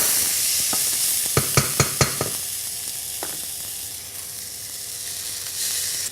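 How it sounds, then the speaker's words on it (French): Curry and spices frying in hot oil for a red lentil dahl, a bright continuous sizzle close up, marked by a quick run of five or six sharp spoon taps against the pan early on and another tap later. "faire revenir des épices comme le curry dans de l'huile pour qu'elles développent leur saveur"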